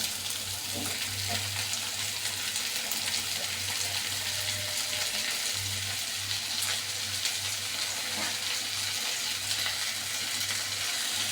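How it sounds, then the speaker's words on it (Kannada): Chopped capsicum added to onion and tomato frying in a pan for capsicum palya, a steady close sizzle with faint stirring scrapes and a low background hum, no talking. "ಇದಕ್ಕೆ ನಾನೀಗ ಕ್ಯಾಪ್ಸಿಕಮ್ ಹಾಕ್ಕೊತಾ ಇದ್ದೀನಿ, ಹೆಚ್ಚಿಕೊಂಡಿರೋದು."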